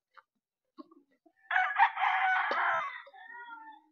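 A rooster crows once, a loud drawn-out call nearby, with a few faint clucks around it.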